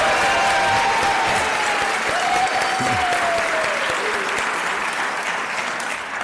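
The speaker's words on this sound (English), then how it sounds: "How about a big round of applause for Stephanie, who makes all this happen" An audience at a community breakfast gives a sustained round of applause, dense and loud from start to finish, with a few whistles and faint voices mixed into the clapping.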